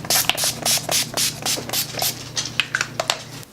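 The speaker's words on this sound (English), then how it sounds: "Now you know I'm going to go in with my Skindinavia finishing spray." A quick series of short hissing spritzes, about a dozen rapid pumps of a makeup finishing spray bottle, close up.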